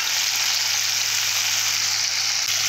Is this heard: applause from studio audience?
no